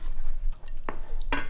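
Bread frying open-face in butter in a hot pan over medium-high heat, a steady, soft sizzle close by, broken by a couple of sharp scraping clicks from a utensil.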